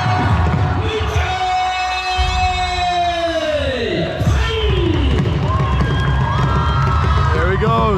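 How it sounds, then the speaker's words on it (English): Loud crowd cheering and shouting at the India–Pakistan border flag ceremony, a dense sustained roar with whistles and rising calls throughout, and someone speaking over the noise. "And the crowd goes wild."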